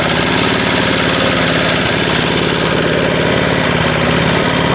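A Simplicity snowblower engine idles steadily after its carburetor cleaning, a loud, even low rumble with a fast regular chug and slight vibration, holding throughout without pause.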